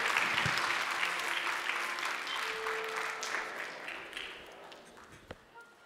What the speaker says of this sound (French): On applaudit nos amis vénézuéliens